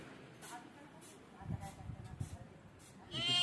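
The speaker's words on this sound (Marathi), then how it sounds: "ती शेळी आली" A goat bleats a few times at moderate distance over a low background rumble, ending in a louder, shaky bleat.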